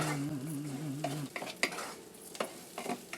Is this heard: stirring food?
yes